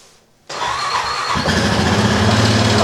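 An ATV engine cranks and catches, then settles into a steady, loud idle with a low rumbling throb.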